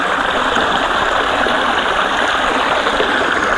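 Water rushing steadily at a resort in Zambales, a loud continuous close-up hiss and gurgle of flowing water with no breaks and no voices.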